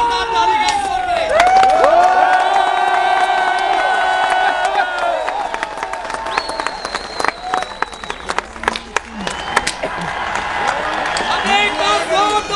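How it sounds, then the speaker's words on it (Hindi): Crowd at the Wagah border ceremony near Lahore cheering and shouting loudly and continuously, with scattered clapping and voices mixed through the roar, close and full. "जोरदार ताली का शोर करें।"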